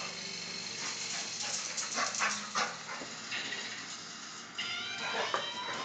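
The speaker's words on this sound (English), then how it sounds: "I'll stand by Mommy and bark. I'm so ferocious." Dogs bark repeatedly in a home with kids, sharp irregular yaps of moderate loudness mixed with whimpers, while voices chatter faintly in the background.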